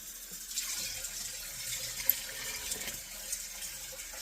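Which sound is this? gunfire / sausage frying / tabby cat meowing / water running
water running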